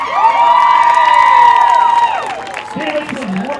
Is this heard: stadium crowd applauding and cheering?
yes